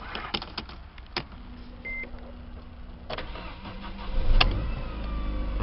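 A car with about 97,000 km on it is started with the key: a few clicks and a short crank, then the engine catches and settles into a steady idle, close by and with no talking.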